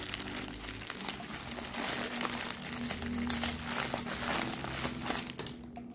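Plastic and cardboard packaging of a Vivan Q11 bass headset being opened, with close, continuous crinkling and rustling of the wrapper that fades out at the end.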